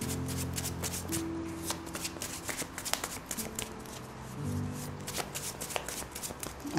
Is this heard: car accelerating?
no